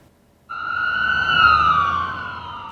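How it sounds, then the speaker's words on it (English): Emergency vehicle siren wailing along Millwood Avenue, a busy street with heavy foot traffic, starting abruptly and holding a loud, steady tone with a slight pitch sweep and traffic rumble beneath. "Sirens"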